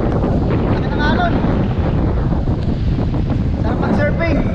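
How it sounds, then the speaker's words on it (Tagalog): Big ocean waves churn and crash at sea after a storm while strong wind buffets the microphone in a constant loud roar, with voices faintly audible beneath. "Laki ng alon"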